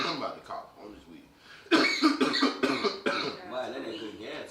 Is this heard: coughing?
yes